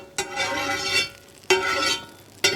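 Hot oil crackles and sizzles in a pan for an ostrich egg omelette, coming in three loud close bursts separated by quieter gaps.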